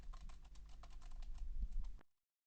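Loud, fast mechanical keyboard keystrokes hammered close by for about two seconds, picked up by an Audeze Maxwell gaming headset microphone while switching noise reduction, then cutting off abruptly into silence.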